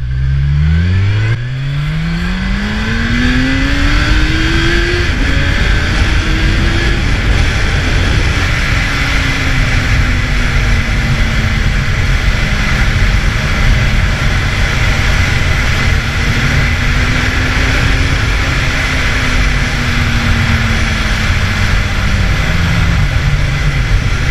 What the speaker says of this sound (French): Allez, on met le gaz en bout.